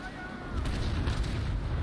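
A mortar brig's gun fires in the naval sailing game Naval Action, a deep, rumbling boom that swells and lingers for a moment at moderate loudness.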